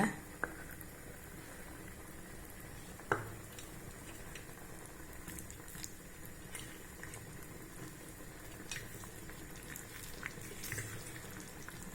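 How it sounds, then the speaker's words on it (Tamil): Quiet, steady bubbling of a tamarind curry simmering in a pot, a soft continuous gurgle with a couple of faint clinks near the start. "இப்போ நல்லா கொதிக்குதுங்க."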